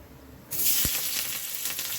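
Ginger and garlic hit hot oil with a sudden loud sizzle that holds steady and close, a single stirring scrape cutting through early, for Nagpur-style patwadi rassa.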